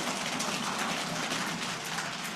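A church congregation pats their legs together to imitate heavy rain, producing a dense, even rushing patter that fills the room at steady loudness without voices.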